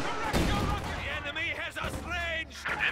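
Heavy mortar fire pounds a building in a World War II strategy game, with repeated booming impacts and rumbling blasts sitting under continuous speech.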